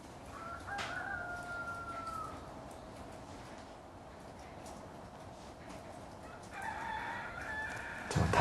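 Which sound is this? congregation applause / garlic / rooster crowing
rooster crowing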